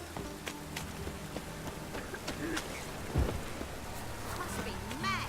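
In The Witcher: Wild Hunt, a steady rain hisses softly and evenly, with one dull thump partway through and faint voices in the background.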